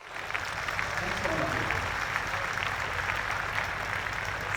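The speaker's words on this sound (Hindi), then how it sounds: "हाथ गर्म हो गए, तालियां बजा लो।" Applause from a crowd at a school alumni meet rises and carries on steadily, fairly faint and distant, with some voices mixed into the clapping.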